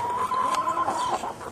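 Backyard chickens clucking close by in a short, steady burst of soft hen calls, heard on their own with no talking.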